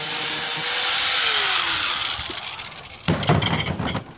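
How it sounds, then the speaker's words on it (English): A wire wheel grinds a small bubble tip off a car antenna being made into a slim jim for a Ford F150: a close, harsh scraping hiss in one long pass, then rougher, choppier rasping near the end. "I'm wire wheeling that little bubble off"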